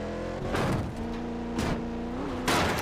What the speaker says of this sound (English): if it's got any induction, it's a supercharger